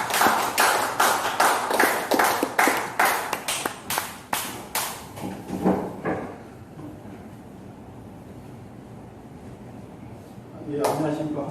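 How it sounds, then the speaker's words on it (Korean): A few people clap in strong, evenly spaced claps at a lecture, slowing and fading over several seconds, followed by quiet and then a voice starting to speak. "우리 큰 박수로 감사드리겠습니다."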